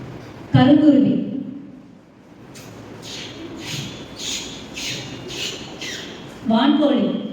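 A school student imitates a blackbird with a quick run of six or seven short, chirpy squawks in steady succession, framed by louder bursts of voice at the start and end.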